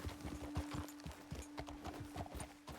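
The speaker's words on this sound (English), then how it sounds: "Best leave the horses back a bit." Horse hooves clip-clop on the ground in Red Dead Redemption 2 as riders approach a ledge overlooking a road, a steady, fairly quiet walking rhythm of hoofbeats with a faint steady hum behind, no talk.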